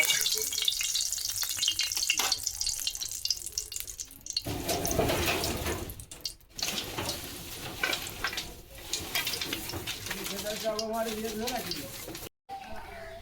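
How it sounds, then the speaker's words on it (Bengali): Spices and oil for a dal tempering sizzle and crackle in a hot pan, a bright frying hiss with stirring and clatter, joined by running water and someone talking over much of it. "এবার আমি ডালটাকে সম্ভারা দেবো।"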